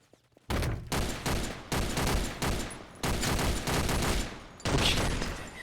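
Video game gunfire in a bloody manor shooter, with dense rapid bursts of shots in several loud volleys separated by short gaps, close and sharp, with no voices.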